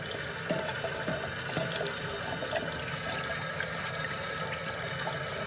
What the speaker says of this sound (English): So I'm just going to give it a quick rinse.